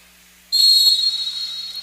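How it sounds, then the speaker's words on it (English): A referee's whistle starts a wheelchair basketball game in an indoor gym: one sharp, shrill blast that holds for over a second before fading, with the hall quiet beforehand. "And there's the whistle."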